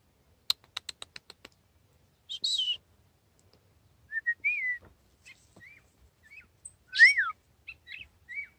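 Bird calls in the woods along the Appalachian Trail: scattered short chirps and whistled notes, clear and isolated against near silence, following a quick run of sharp clicks.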